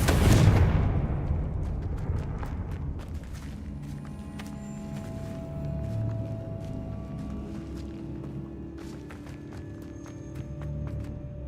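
A Confringo blasting curse in Hogwarts Legacy detonates with a loud, close explosion boom, followed by a long rumbling decay, scattered crackling debris and clicks.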